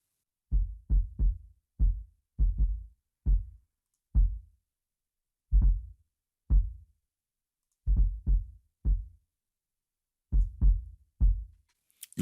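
Processed sub kick drum from a drum mix, a deep booming thump heard alone in irregular clusters of single and double hits with silence between them.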